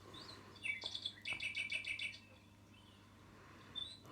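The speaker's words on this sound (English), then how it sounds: "Oh, hello, Cuckoo Clock." A cuckoo clock's toy bird sounds indoors as rapid, high chirping bursts in two short runs, faint and thin against quiet room background, with no speech.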